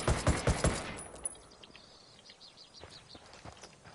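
MK14 rifle in Ghost Recon Wildlands firing a quick string of five or six sharp shots at the start, then fading into quiet outdoor ambience with faint chirping.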